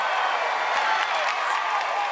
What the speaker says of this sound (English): the crowd is going crazy for Chris Young and Famous Friends